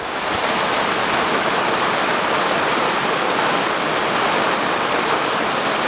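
Heavy rain pours down steadily, making a dense, loud, unbroken hiss close by with no talking.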